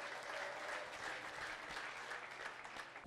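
A church congregation claps together to honor the Lord, a dense, steady wash of applause filling the room without pause and ending in a final louder clap.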